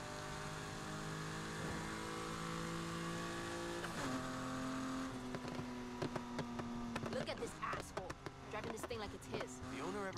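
A Ferrari F40 in Need for Speed Heat drones at steady revs, the pitch dropping at a gear change before the engine note grows busier and more uneven, with people talking over it.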